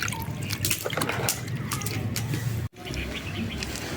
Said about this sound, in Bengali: এবার ধুয়ে নেব বেশ কিছুটা লঙ্কা।